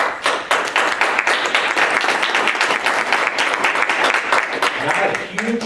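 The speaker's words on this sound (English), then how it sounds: "Not a huge crowd to clap" Applause from a small audience at a school board of education meeting, steady clapping of a handful of people lasting the whole stretch, fairly loud and close, with some voices mixed in.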